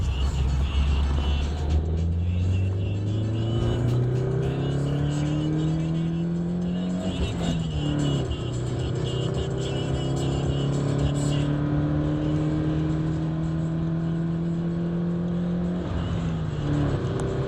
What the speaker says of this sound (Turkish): Araç dördüncü viteste ve müthiş bir ivmelenme ile hızlanmakta.